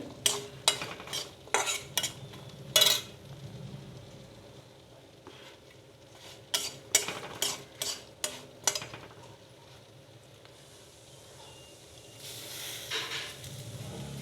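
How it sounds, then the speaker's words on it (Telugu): Cashew nuts fry in ghee in a kadai, with bursts of sharp spatula scrapes and clinks against the pan over a soft sizzle, then a quieter stretch and a final brief flurry of stirring. "కొంచెం ఇందులో కళాయిలో ఉంచేసి జీడిపప్పు ఫ్రై చేస్తున్నానండి"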